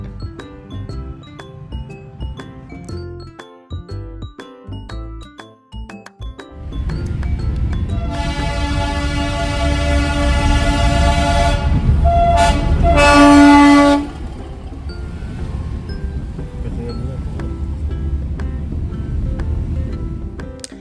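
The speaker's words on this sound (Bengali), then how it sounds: "শিলিগুড়ির ঐতিহ্য টয় ট্রেন সেটা যাচ্ছিল" The Siliguri heritage toy train, a Darjeeling hill line service, rumbles past nearby. Midway a loud, sustained horn sounds for several seconds, with a brief extra blast near its end, while the rolling noise carries on before and after.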